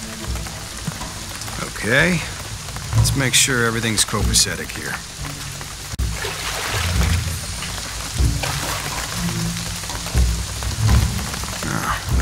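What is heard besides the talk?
rain in video game Shadow of the Tomb Raider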